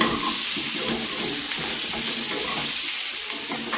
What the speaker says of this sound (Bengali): এর মধ্যে এখন আমি দেবো ওই টমেটোর দুটো কুচি